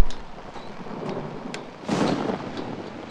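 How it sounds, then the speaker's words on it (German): Thunder rolls through a rainstorm in the horror game Outlast, with a steady rain hiss, a few sharp crackles and a louder rumbling swell near the end, no talk. "Das mit den Donnern und so ist alles echt super gut gemacht."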